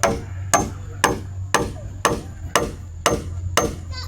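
Hammer blows drive nails into wood during house building, eight sharp, loud strikes falling in a steady rhythm about half a second apart, each with a short ringing decay, and no talking.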